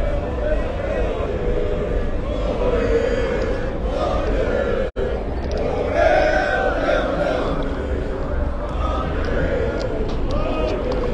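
Large crowd of Moroccan football fans gathered outside the stadium before Morocco vs Belgium, a loud continuous roar of chanting and shouting voices with steady babble, broken by one brief dropout midway.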